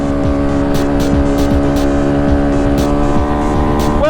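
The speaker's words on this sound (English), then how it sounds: "there's the rev limiter, and some more." Tiny motorbike engine held at high revs, bouncing off the rev limiter in rapid repeated cuts, steady and close with a strong buzzing harmonic drone throughout.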